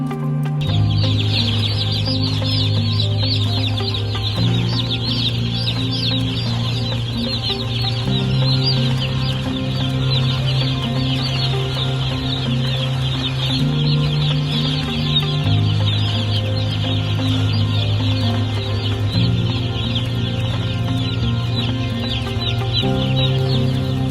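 Many chickens cluck and chatter steadily throughout, a busy flock sound layered over continuous music with sustained low notes.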